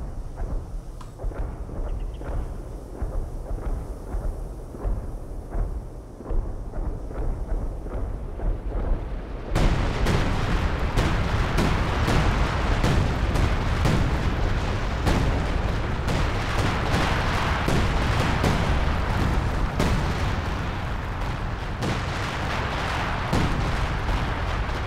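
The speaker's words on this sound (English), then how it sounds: "let's see what a fully juiced up 105mm howitzer barrage looks like" Company of Heroes 2 105mm howitzer barrage: dense, continuous rumbling salvo of shell impacts and booms, growing louder and heavier midway and rolling on without pause for the rest of the stretch, no talk.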